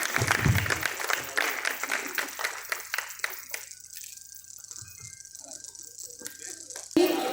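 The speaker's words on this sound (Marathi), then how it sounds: "तसेच शिवप्रेमी जोरदार टाळ्या वाजवाव्या सर्वांनी" Audience at a Shiv Jayanti celebration at Yashwantgad, Redi, clapping in a burst of loud applause that thins out and fades over a few seconds, with a brief thump at the end.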